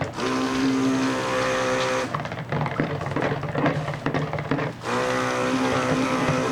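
Stick blender mixing coconut milk, oil and lye soap batter: a steady loud motor whir with a brief rougher, choppier stretch in the middle before the smooth whine returns.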